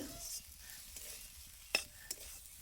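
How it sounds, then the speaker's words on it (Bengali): Cauliflower filling being stirred in a pan, a soft steady sizzle with a few sharp scrapes of the spoon against the pan, close and alone. "এইভাবে এটাকে নাড়াচাড়া করে করে পুরটাকে রেডি করে নিতে হবে"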